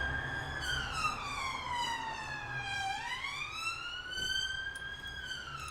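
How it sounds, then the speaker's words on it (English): A police car siren wails from the distance at night, sweeping down in pitch then rising again as it passes, faint and steady against low background rumble. "There's a lot of police cars tonight."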